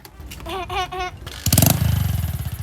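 A stripped-down motorcycle is kick-started by hand with no battery. A few strained tries come first, then the engine catches and settles into a loud, close, pulsing rhythm while voices are heard early on.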